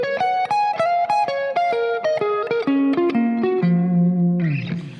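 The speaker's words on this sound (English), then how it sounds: "Okay, let me play this solo slowly first" Slow guitar solo, a clear sequence of picked single notes stepping downward with a distorted, reverberant tone, ending on a held low note, played alone.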